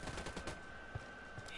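Gunfire in the tactical shooter Ghost Recon Wildlands, a short burst of rapid automatic shots heard moderately distant beneath game ambience.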